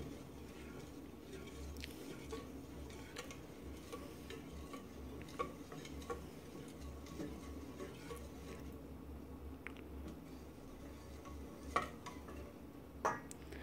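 Butter whisked together with other brownie ingredients in a pan over medium heat: a faint, steady stirring and scraping texture with occasional light ticks from the whisk against the pan.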